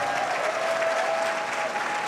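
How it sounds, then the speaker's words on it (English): An audience at a pharmacy white coat ceremony applauds in a steady, dense round of clapping filling a large hall, even and sustained for the whole moment. "let's applaud ourselves."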